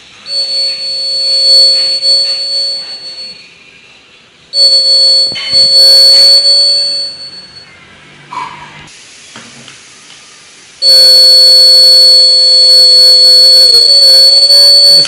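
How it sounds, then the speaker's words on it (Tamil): A homemade water tank overflow alarm sounds a high, steady electronic tone in repeated bursts with short gaps, loud and close, the final burst continuing without a break. "அந்த தண்ணி அந்த டச் ஆகிடுச்சுன்னா உங்களுக்கு அலாரம் அடிக்கும்."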